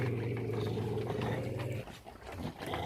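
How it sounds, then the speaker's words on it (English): Several dogs growl and rumble low and steadily as they eat dog food soaked in about two liters of milk, a close, continuous growling that eases briefly near the end. "when you hear that growl, you know that they are enjoying their food"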